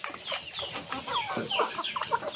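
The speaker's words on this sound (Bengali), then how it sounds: "দেখতে পাচ্ছেন মুরগিটাকে খাবার দেওয়া হচ্ছে" Aseel chickens on a farm cluck and chatter while being fed, a busy overlapping flock of soft clucks and squawks at close to moderate distance with no talk.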